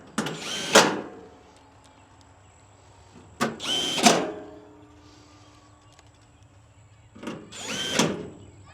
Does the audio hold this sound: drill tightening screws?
yes